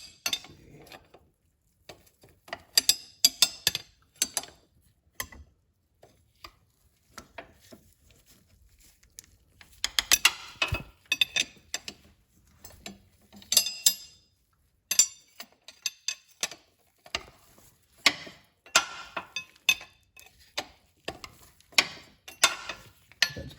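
A bolt is turned by hand on a power steering pump until its lock washer compresses, giving intermittent metallic clicks and ratcheting ticks in scattered bursts, close and fairly quiet, with no talking.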